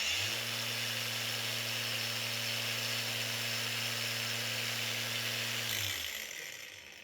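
A cordless brushless angle grinder spins at its high setting, about 6,900 RPM, giving a steady loud motor whine with a low hum that winds down near the end.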